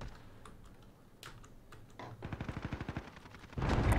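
A computer keyboard is pressed while playing Warzone with mouse and keyboard. A few scattered taps give way to a quick, even run of about a dozen keystrokes, then a louder burst of game gunfire at the end.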